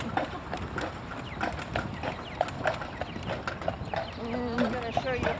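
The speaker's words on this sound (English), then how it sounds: "I'm going to show you how a carriage horse makes a left turn in a low left-hand turn zone." A carriage horse's hooves clip-clop on pavement as it makes a left turn in Ogden, Utah, a steady rhythm of close, sharp strikes with faint background noise and brief other sounds.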